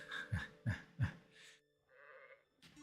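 Sheep bleat three times in quick succession in the village-building game Life is Feudal: Forest Village, the calls fairly close and clear, followed by softer farm ambience and a brief quieter animal sound.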